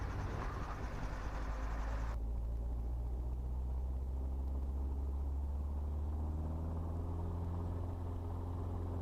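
Piston helicopter engine on the ground, with the throttle rolled up so the governor takes over: a steady, loud low drone with a harmonic hum and a sudden drop in high-frequency noise, no talking.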